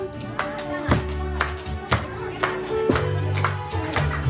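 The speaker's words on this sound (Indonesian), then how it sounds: "Ayo tepuk tangan." Children clap their hands at a first-birthday church worship service in Toraja. The claps are sharp, evenly spaced beats about twice a second, set against singing and music.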